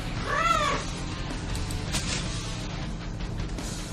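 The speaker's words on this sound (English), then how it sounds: "It was the cat from before, repaying the debt he owed me." A cat gives one clear, close meow early on, followed by quieter background noise and a few soft rustles.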